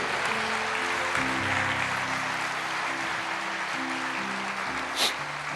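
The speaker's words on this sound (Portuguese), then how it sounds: "Eu só peço que aplauda ao Senhor." A church congregation applauds steadily and fairly loudly for several seconds, a dense wash of clapping over sustained background music, with one brief sharper burst near the end.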